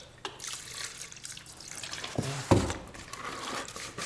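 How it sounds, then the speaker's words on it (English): Two oil paint brushes and a pot are washed in old dirty turpentine, with close, soft sloshing and swishing liquid sounds and one sharper splash or knock near the middle. "I've got two brushes here I'm just washing up."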